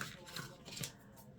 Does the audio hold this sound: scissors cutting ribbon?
yes